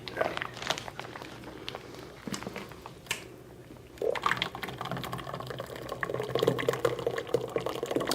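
A dairy-free ice cream base of toasted mudslide flavour, made with dairy-free liqueur, is poured into a 3.5-quart container with gradient lines. A soft, continuous trickling fill builds in the second half, close and modest in level, with no talking.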